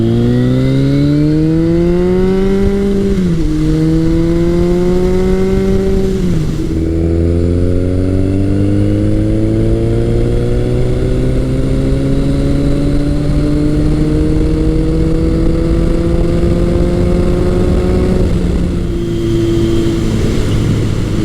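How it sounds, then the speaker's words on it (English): A Kawasaki KZ1000 CSR motorcycle fitted with a Delkevic exhaust revs hard through several gears, each rising engine note cut off by a brief dip at the shift. It is loud, close and continuous, with no talk. "I love the sound from the Delcovic exhaust."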